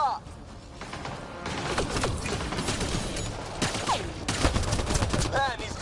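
Gunfire rattles in the sci-fi shooter Mass Effect: Andromeda, a dense, continuous fusillade of shots and impacts with sharp chirping effects. Bursts rise and fall over several seconds amid loud battle noise.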